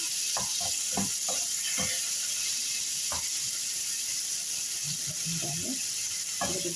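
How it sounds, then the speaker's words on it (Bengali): Spices frying in a pan while being stirred, a constant bright sizzle with scattered scraping and clinking strokes of the spoon, close and fairly loud, no talking. "ভালো করে একটু নাড়াচাড়া করে নিলাম।"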